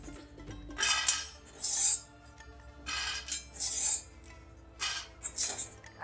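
Utensils clink and scrape against a metal pan and dish as roasted makhana (fox nuts) are transferred out, in several separate bursts of bright rattling with quiet gaps between, close and moderately loud.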